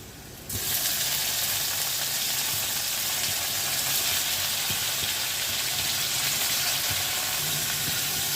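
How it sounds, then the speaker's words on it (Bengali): Paneer cubes and potatoes frying in oil in a pan for a no-onion, no-garlic paneer curry, a steady broad sizzle that surges in as they hit the pan and continues loud and even throughout, with faint stirring clicks and no talk. "এবার এই পনিরটাকেও আলুর সঙ্গে ভেজে নিতে হবে"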